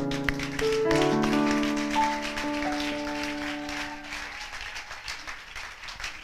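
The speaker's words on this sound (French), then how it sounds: "Acclamons encore le Seigneur." Church congregation applauding the Lord during a service, with dense clapping mixed with sustained organ or keyboard tones and voices early on, the music fading while the clapping continues steadily to the end.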